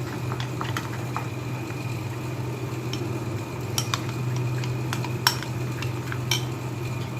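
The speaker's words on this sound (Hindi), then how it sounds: "इस तरह से मैं पानी डाल के एक पेस्ट तैयार कर लेती हूँ।" Nihari masala being stirred with water into a paste, a metal spoon scraping and clinking against a bowl in scattered light taps over a steady low hum of kitchen background noise.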